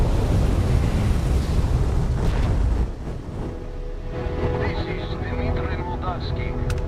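A spaceship in Starfield switching to standard engines: a broad, loud roar that eases down partway through into a steadier hum, with faint electronic tones on top.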